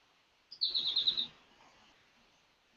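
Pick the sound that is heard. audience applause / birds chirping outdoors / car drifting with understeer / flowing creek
birds chirping outdoors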